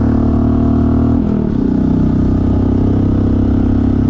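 A Honda CT125 motorcycle fitted with a 142 big bore kit and a 15-tooth sprocket accelerates on the road at half throttle, its loud, steady engine drone dipping briefly as it shifts, then climbing with rising pitch, with wind noise throughout.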